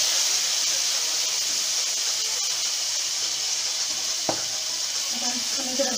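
Red chillies for Banarasi stuffed pickle cooking in a pan, giving a steady close sizzle and hiss of frying oil throughout, with a brief stir or clink near the end.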